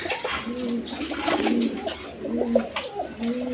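A pair of pigeons on offer at a pigeon sale give repeated soft, throaty coos in a rhythmic pattern, close by, over a busy market murmur.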